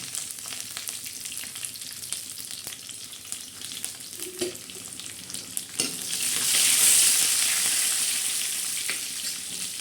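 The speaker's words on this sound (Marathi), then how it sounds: "त्याच्यामध्ये कडेपत्ता सोडणार आहे जिरे टाकणार आहे लसूण टाकलं" Curry leaves, cumin seeds and garlic hit hot oil for a dal tadka, giving a steady close sizzle that swells into a louder, hissing burst of frying partway through, with a few faint clinks.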